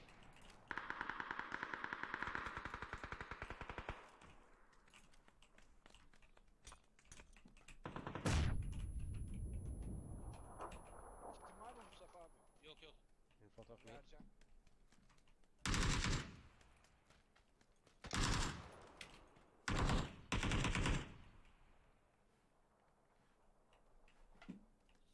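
Video game gunfire around shipping containers: short bursts of rapid shots at intervals, some loud and close, others quieter, with stretches of ambient game noise between them.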